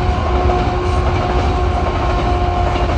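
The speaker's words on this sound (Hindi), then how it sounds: "रेलगाड़ी दूसरी वाली है ना, सवारी वाली नहीं है" A freight train, not a passenger train, rolls steadily past on the railway, a loud continuous rumble with rhythmic wheel clatter and a faint whining tone throughout, no talk.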